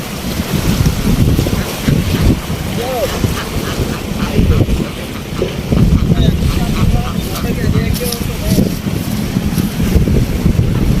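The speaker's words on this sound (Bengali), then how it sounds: "মাছ ধরার ট্রলার।" Fishing trawler boats on the Meghna river, heard as a continuous low rumble mixed with wind and water noise, steady and fairly loud for the whole stretch, with occasional talk over it.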